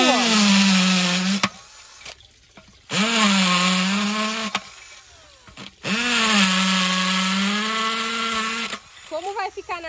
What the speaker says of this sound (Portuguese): Mas aqui eu tenho uma furadeira, parafusadeira.